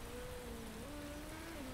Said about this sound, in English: that rain's going to build up